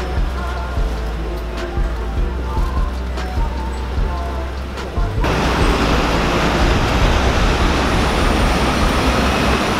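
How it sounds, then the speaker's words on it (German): Rain falling on a Hong Kong street at night, a dense steady hiss of drops that swells louder halfway through, with traffic rumbling underneath and no talk. "Es regnet einfach immer doller und das ist doof."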